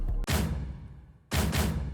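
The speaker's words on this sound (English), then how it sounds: "We started off with a stomp." Two heavy, booming stomp hits about a second apart, each with a deep low thud and a long decaying tail, nothing else around them.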